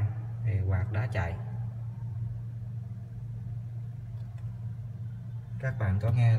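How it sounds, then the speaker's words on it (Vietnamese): A low, steady electrical hum from an inverter refrigerator's fan drones throughout, with someone speaking over it at the start and end. "các bạn có nghe là tiếng quạt nó chạy ù ù ù đây các bạn."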